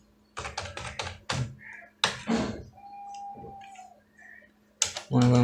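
A computer keyboard clicks in a quick run of keystrokes as a name is typed into a loan application form, followed by a few isolated taps, with someone speaking between and over them.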